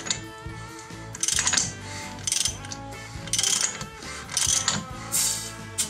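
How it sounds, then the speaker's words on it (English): A motor turned over slowly by hand to find top dead center on the front cylinder, giving bursts of clicking, ratcheting mechanical noise in several pulses, fairly close and with no talking. "turn our motor over and find top dead center on the front cylinder"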